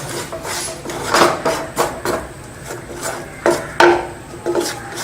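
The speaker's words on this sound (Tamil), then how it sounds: "இப்போ ரவையும் கேரட்டும் நல்லா கலந்துடலாம்" A spoon stirs semolina and grated carrot together in a pan on a switched-off stove, making repeated close scraping and rasping strokes in an uneven rhythm, with no speech.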